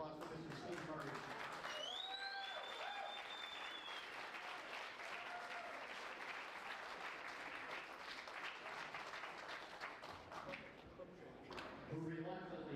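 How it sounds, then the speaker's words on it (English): Loud, steady crowd applause at a foosball tournament event, with cheers and whistles on top and voices shouting through it, continuing for about twelve seconds. "Let's have a big round of applause for Mr. Steve Murray."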